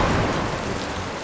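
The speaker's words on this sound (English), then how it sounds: "Rain." Loud, steady downpour of rain with a dense hiss of drops, close and continuous, with a low rumble underneath.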